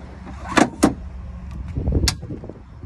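A Ford F-150's tailgate step is worked close by, giving two sharp metallic clacks followed by a rumbling slide and one more bright click, with no voices.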